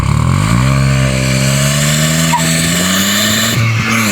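A Tata Altroz Racer under acceleration, engine note rising and holding steady with rich harmonics, loud and close throughout with no talking.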